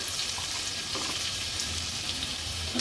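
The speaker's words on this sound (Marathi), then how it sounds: "थोडासा तेलावर परतून घ्यायचा आहे" A crush of ginger, garlic and green chili sizzles in a little hot oil over a low flame, a steady, bright crackling hiss with faint stirring.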